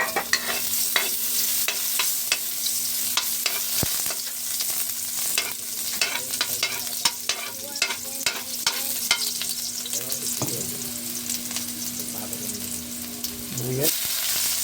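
Vegetables and garlic sauté in a pan for a Filipino home-cooked dish, a constant crackling sizzle with repeated scraping and clanking of a spatula, close up, while a low steady hum runs beneath and a voice speaks briefly near the end.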